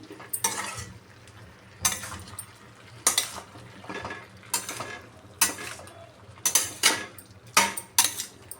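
Pumpkin curry being stirred in a pan after spice paste and water are added, a utensil scraping and clinking against the metal in about eight distinct bursts, close and fairly loud, with quiet pauses between.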